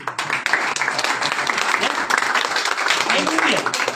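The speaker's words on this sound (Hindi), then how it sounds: "तालियां बनती हैं" Applause breaks out among attendees of a legal ethics lecture, a dense, continuous clatter of many hands, with a voice speaking briefly underneath toward the end.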